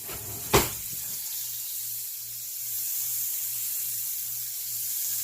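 Butter melts in a pancake pan with a sharp clack of contact, then settles into a steady, quiet sizzling hiss with a faint low hum beneath, and no voices.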